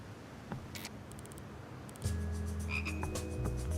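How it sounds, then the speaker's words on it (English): A frog croaks in a video game, a low, buzzy, continuous croaking that swells in after a quiet stretch and keeps going steadily, with brighter chirping tones layered above it and no talking. "I hear a frog, though."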